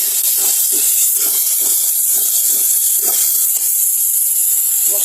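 Sliced chillies dropped into a hot pan for a taro and red lentil curry, giving a steady close hiss and sizzle with faint crackling pops throughout.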